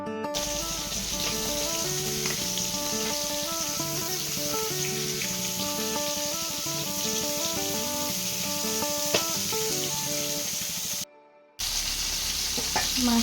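Fish sizzling and frying in oil in a kadai, a steady close crackling sizzle running on continuously for over ten seconds beneath background music, cut briefly by a short gap near the end.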